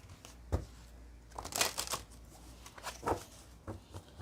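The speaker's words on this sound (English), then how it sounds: "let's shuffle this" A deck of tarot-style reading cards is shuffled close up, giving soft riffling and flapping bursts in quick uneven clusters, fairly quiet, with no talking.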